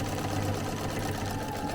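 Sewing machine running steadily while stitching short quilt lines one at a time, a continuous close, even mechanical whir with no pauses.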